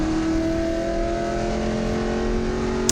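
Race cars from the Gridlife GLTC series at Mid Ohio drone steadily at high revs through a corner, a continuous loud engine tone with no break.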